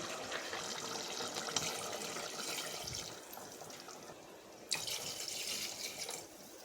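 Steady running water pours continuously into a pot for biryani rice, a close, even rush with a brief splash partway through and no voices.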